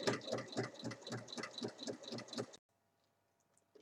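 A sewing machine topstitches an assembled fabric pouch in autumn colours, running in quick rhythmic bursts of stitching for about two and a half seconds before stopping abruptly into near silence.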